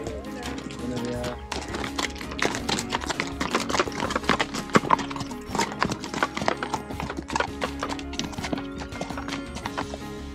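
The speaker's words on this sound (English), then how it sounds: "Horses coming through." Horses walk past on the Camino de Santiago near O Cebreiro at the Galicia border, their hooves clip-clopping close by in a dense, uneven stream of sharp knocks.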